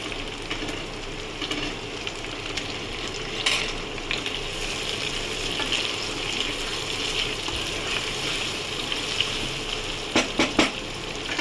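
Potatoes crackle and hiss steadily as they fry in a pan over onions on a high gas flame, with occasional scrapes and a quick burst of stirring clatter near the end.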